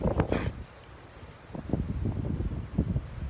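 Gusty wind outdoors on an overcast day, buffeting the microphone in rough bursts that rise and fall, fairly faint overall with no talking.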